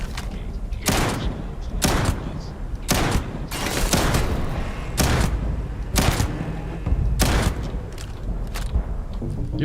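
Repeated shotgun blasts in the video game Starfield, about six loud booming shots spaced roughly a second apart, each with a sharp attack and decaying tail, up close and without talk.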